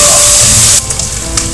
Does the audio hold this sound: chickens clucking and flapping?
no